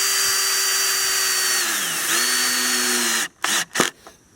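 A power drill whines steadily and close as it drives drywall screws into wood, its pitch sagging under load before it stops, followed by a few short bursts of the motor.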